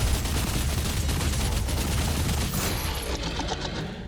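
Rapid sustained gunfire from an upgraded weapon in DOOM: The Dark Ages, a dense loud barrage of shots with heavy low-end thump running continuously before tapering slightly at the end.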